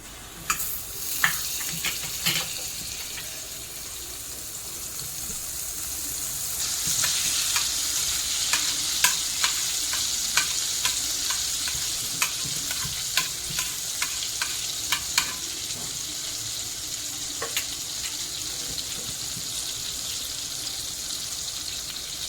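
Butter sizzling in a hot kadai for a pav bhaji tempering, a continuous crackling fizz that swells after a few seconds and stays dense with scattered pops and spatters throughout.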